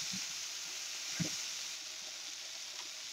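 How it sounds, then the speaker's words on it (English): Meat for a beef stew sizzles steadily in a hot pan, a soft continuous frying hiss with a brief scrape or stir near the middle, heard close and alone. "Stir my meat up."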